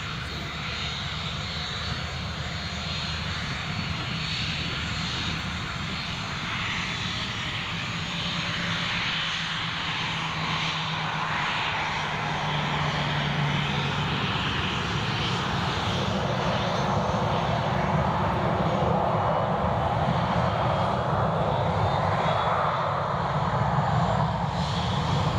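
Transavia Boeing 737-800 jet engines roaring at Newcastle International Airport, a steady, loud broadband rumble and whine that holds for the whole stretch, swelling slightly toward the end, with no voices over it.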